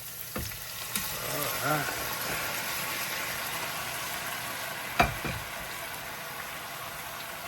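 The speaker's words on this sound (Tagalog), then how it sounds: "Malambot na yung balon-balon. Gisa na natin." Chicken gizzards sauté in a pan with a soft, steady sizzle, broken by a few clinks and knocks of utensils against the pan, while a person speaks briefly.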